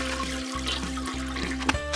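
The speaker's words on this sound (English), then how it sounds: "So George gave the toilet a big flush." Flushing from a Play-Doh toy toilet playset, a continuous watery rush and trickle with steady tonal hum beneath, moderately loud and without speech.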